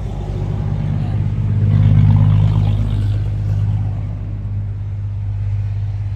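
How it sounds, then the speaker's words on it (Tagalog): A Mazda Flare's R06 engine revving up in a vehicle trading lot, a close, loud low rumble that swells to a peak around two seconds and then eases back to a steady idle. "RO6 engine."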